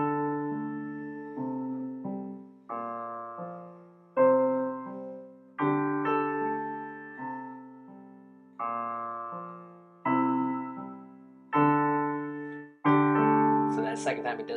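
A piano plays the chorus riff of a song as a repeating phrase of sustained chords and notes, each struck and left to ring and fade, clear and close with no talking over it.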